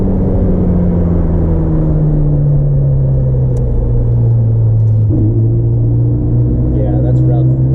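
A Ferrari F40 engine runs rough and harsh while being tuned on a road dyno, a loud, continuous low rumble with a slowly shifting drone as the car drives steadily, and voices talk faintly beneath it.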